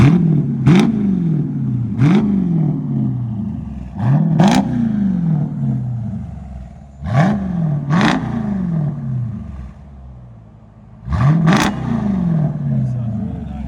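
A 2017 Jeep SRT Grand Cherokee with a 6.4L HEMI V8 and full straight-pipe exhaust with an X-pipe revs in sharp, loud bursts, about seven quick blips rising and falling close by, with idle rumble between.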